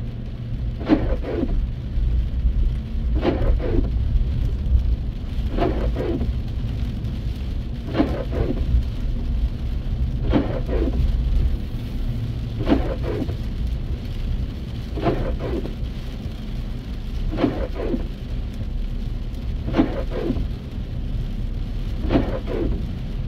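Windshield wipers on a car sweep steadily across the glass in the rain, about nine regular swishes at two- to three-second intervals, over constant rain patter and low engine and road rumble inside the cabin.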